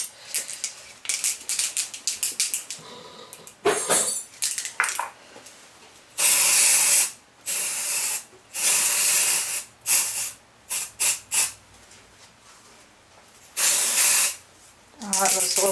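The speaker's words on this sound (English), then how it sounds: "This is edible shimmer spray." Edible shimmer spray hisses onto crescent-shaped cakes in a series of sharp bursts, some brief and some held for about a second, separated by short pauses.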